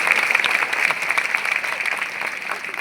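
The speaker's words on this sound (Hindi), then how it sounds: "अरे अपने अध्यापक गण के लिए तो अच्छे से ताली बजाओ भैया" Crowd applause for teachers at a public gathering in Shivpuri, thick continuous clapping from many people, even and sustained at moderate loudness throughout.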